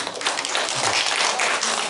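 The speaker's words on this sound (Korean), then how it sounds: "오늘 박수를 한번 쳐주세요" A church congregation claps together during a Wednesday worship service, a dense, steady patter of many hands that stays close and even for a couple of seconds.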